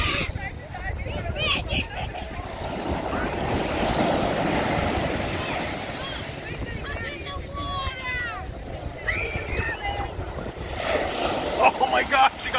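Ocean waves at a beach mixed with heavy wind buffeting the microphone, a rushing, roaring wash that swells and fades, with voices and shouts breaking in over it.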